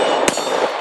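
A single sharp SD9 VE pistol shot at about 0.3 seconds, a loud broadband crack over steady background noise, with a short ringing tail afterward.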